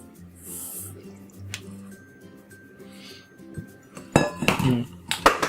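Tamale chili sauce is poured into a cooking pot, ending in a burst of clattering metal and wet splashing. Quieter kitchen clinks and hiss come before it.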